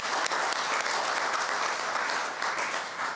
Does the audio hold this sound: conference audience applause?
yes